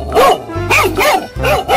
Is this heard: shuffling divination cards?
no